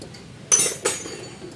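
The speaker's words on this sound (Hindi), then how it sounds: "अभी हेड के बोल्ट खोल रहे हैं" Two sharp metallic clinks about a third of a second apart, close and fairly quiet, as a wrench loosens the cylinder head bolts on a Cuore car engine during head gasket work.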